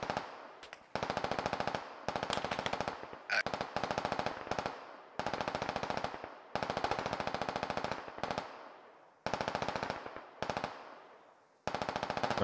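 Automatic gunfire rattles in the military shooter game Squad, several long rapid bursts separated by short gaps of silence, loud and close, with no talk.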